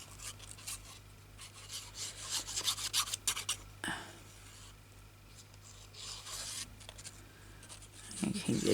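Scissors snip and rasp through craft paper around a ring, with steady rubbing, scraping strokes close by, a pause midway, then more cutting under a low background hum.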